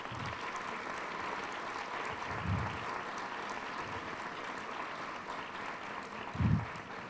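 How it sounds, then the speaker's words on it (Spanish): An audience applauding after a speaker at a Spanish citizenship course event: steady, dense clapping that holds at an even level throughout, with a couple of low thumps and no talk over it. "yo creo que se merece un aplauso"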